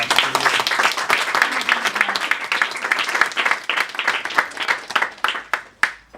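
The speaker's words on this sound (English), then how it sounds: "So just a round of applause for Jay's fantastic work." A small gathering breaks into warm applause for a skilled young man, dense overlapping claps at close range that thin out toward the end into a few last scattered claps.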